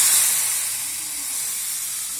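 Hot oil poured over simmering buttermilk curry thickened with chickpea flour and red chili gives a loud, close, hissing sizzle that eases slightly but keeps going.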